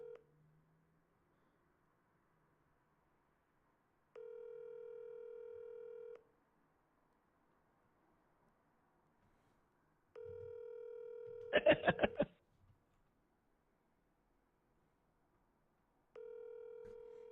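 A telephone call rings out unanswered, with evenly spaced two-second ringback tones repeating in a steady pattern. A short burst of louder crackle or voice interrupts midway.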